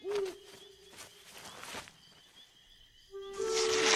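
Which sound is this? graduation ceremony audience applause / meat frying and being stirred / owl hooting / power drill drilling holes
owl hooting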